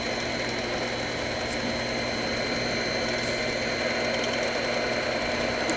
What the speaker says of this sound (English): With the high speed of our mixer.